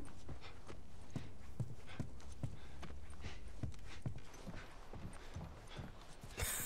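A horse's hooves clip-clop in The Last of Us Remastered, a steady rhythmic trot of sharp, evenly spaced beats that continues alone, with a brief louder knock near the end.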